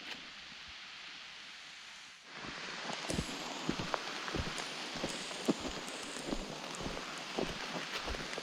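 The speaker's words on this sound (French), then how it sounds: "Il pleut." Rain falls steadily in a forest, a dense hiss from about two seconds on, with scattered louder drops pattering on leaves close by.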